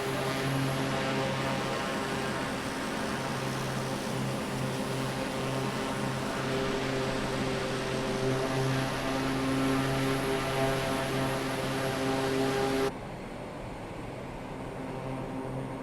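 A small propeller charter plane in flight, heard from inside the cabin as a loud, steady engine drone with a constant propeller hum. The level drops slightly near the end but the drone continues.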